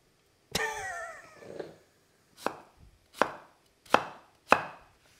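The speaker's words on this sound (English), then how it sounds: "just roughly chop it up." A knife chops through potatoes on a cutting board, roughly chopping them for steaming: one heavy cut, then four sharp, evenly spaced chops, close and clear with quiet pauses between.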